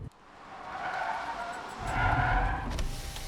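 A car brakes hard on a road in an action film scene, tires skidding and squealing in a sustained, loud screech that swells toward the end, with no talk over it.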